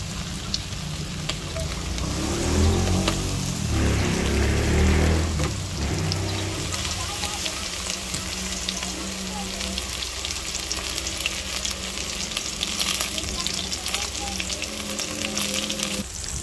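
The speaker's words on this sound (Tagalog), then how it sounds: "Mainit na po yung mantika natin, ano? Lagyan na po natin ating chicken." Chicken pieces, already boiled, frying in hot oil in a home kitchen, a steady loud sizzle and crackle with a heavier burst of bubbling early on, then settling into even continuous frying with no talk.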